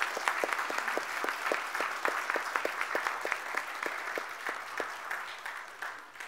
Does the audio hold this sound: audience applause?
yes